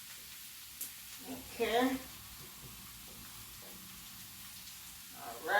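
Vegetables sautéing in a pan give a faint, steady sizzle, with brief clatters and a short spoken remark breaking in over it.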